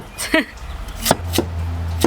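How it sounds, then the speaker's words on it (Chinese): A few sharp knife chops land on a cutting board, spaced unevenly, with a voice speaking briefly before them. "再切胡萝卜，这样切可以吗？"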